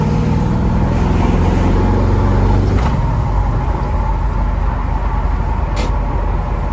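A restored 1968 Chevrolet Camaro cruises down the road, its engine giving a steady low rumble under constant road and wind noise, with a couple of brief higher squeaks.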